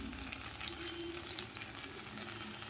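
Ghee sizzling in a pan of banana flower curry (mochar ghonto) over a low flame, a steady soft frying crackle with faint pops, close and alone.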